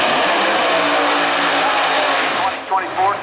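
A 2024 Camaro drag race car at a PDRA shootout at Maryland International Raceway roars loud and steady, a dense broadband engine howl that holds throughout before dipping briefly near the end while a voice talks over it.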